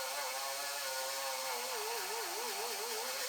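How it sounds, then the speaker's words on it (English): A die grinder cutting out spot welds on the body of a totaled 2020 Toyota RAV4 XSE Hybrid: steady high-pitched whine, close and constant, with the pitch wavering slightly as the tool loads against the metal. "Now we're going to start grinding out all of our spot welds with a die grinder"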